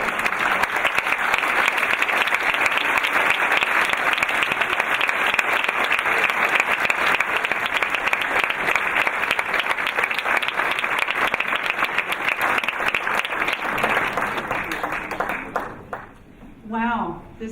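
A large graduation ceremony audience applauding, dense steady clapping for a long stretch that fades out near the end as a voice begins speaking.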